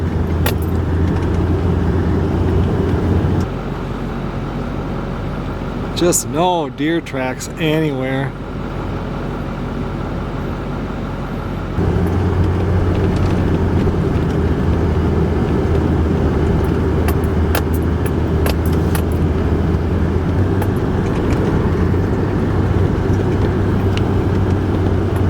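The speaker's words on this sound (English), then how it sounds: "I just decided to start the truck today, let it warm up since it's so cold" A pickup truck rolls along a cold winter road with a steady, low engine drone and road rumble throughout, while someone talks over it.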